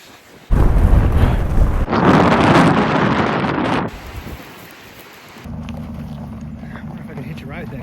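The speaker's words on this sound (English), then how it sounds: "So you can see the wind is coming. Nice gust of wind around this turn here." A strong gust of wind roars into the microphone on a mountain trail road at Mt. Baldy, blasting loudly for several seconds before easing into a softer, steadier rush.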